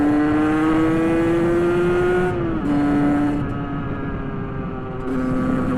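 A derestricted 50cc motorcycle engine, Euro 5 AM6 type, drones steadily at high revs, its pitch climbing slowly, dipping briefly, then holding, recorded close and continuous.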